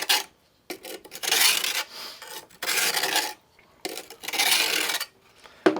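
Kitchen knife drawn across the 200-grit side of a four-sided diamond sharpener, giving four loud, gritty rasping strokes of about a second each, close up, with short quiet gaps between them.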